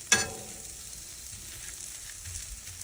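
Chopped smoked brisket hits a hot Blackstone griddle with a sharp opening crackle, then settles into a soft, steady sizzle up close, no voices.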